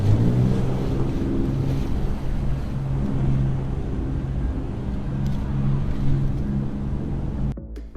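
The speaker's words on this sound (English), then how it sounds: "jet boating is a fantastic way to enjoy the sights of Sydney Harbour." Jet boat speeding across Sydney Harbour, a steady loud engine roar with rushing water and wind buffeting the microphone throughout, cutting off sharply near the end.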